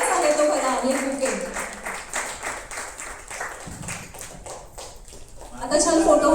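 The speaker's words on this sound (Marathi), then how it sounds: "रेखाताईंच्या हस्ते टाळ्या होऊन जाऊ दे" A crowd claps at a felicitation ceremony during an abhang music event, a steady ripple of applause under someone speaking, fading midway and swelling again at the end.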